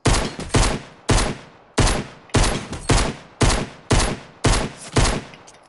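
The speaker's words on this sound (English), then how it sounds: "I was trying to shoot him." Video game gunfire in a first-person shooter match: about nine loud, sharp bursts of rapid automatic fire, each a short rattling volley followed by a brief pause, evenly spaced and very close, with no talking.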